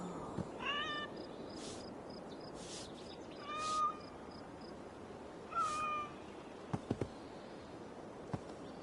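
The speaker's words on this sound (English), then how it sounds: "I never thought the meow of cats could soothe my soul." Cats meowing in Assassin's Creed Valhalla, several distinct meows spaced across a quiet ambient game soundscape, with a few sharp clicks near the end.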